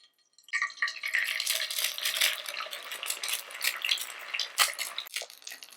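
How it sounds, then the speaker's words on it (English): An egg fries over low heat in olive oil and fat rendered from Alheira sausage, breaking into a close, steady crackle with scattered pops after a short silence. "the last step is to fry an egg to put on top. Again, in the same olive oil and fat that was released from the sausage"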